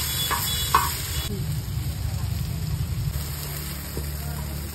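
Soybean chunks fry with capsicum, cabbage and onion for a veg roll at a street food stall, a loud steady sizzle and hiss with occasional stirring clinks and faint voices underneath.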